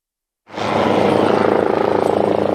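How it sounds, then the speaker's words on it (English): The Otago rescue helicopter arrives at Queenstown Lakes District Hospital in New Zealand. After a brief silence, its loud, steady rotor roar and engine whine cut in abruptly and hold, close and dominant. "The Otago rescue helicopter arriving at Queenstown Lakes District Hospital."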